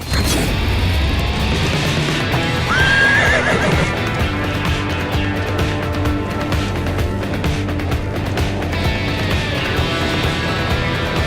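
A horse galloping in a Neopets video game, with steady clip-clop hoofbeats and a neigh early on, loud and continuous throughout.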